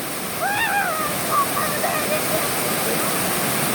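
Waterfall at Cachoeira de Imbassay roars as a steady broadband wash of falling water, loud and constant, with a few faint chirping or whistling calls briefly above it early on.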